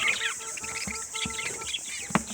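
Caged Japanese quail, a small flock of eight hens and one male kept with lovebirds in a shared cage, give soft clucks and short chirping calls, scattered and close, with no talking.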